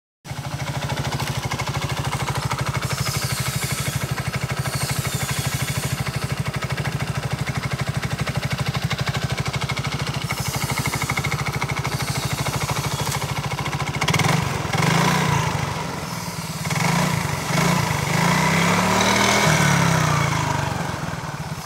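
A CVT motorcycle engine idles steadily and close during a test after a front pulley repair, a continuous rattling drone that roughens and swells slightly near the end.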